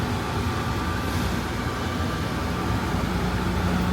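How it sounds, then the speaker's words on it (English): An airport terminal train hums and rumbles steadily at a constant level as it departs, with no voices. "This train is departing."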